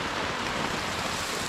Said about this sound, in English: I think the rain is pouring